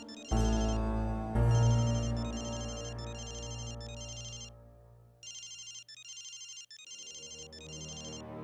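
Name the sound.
phone ringtone, incoming call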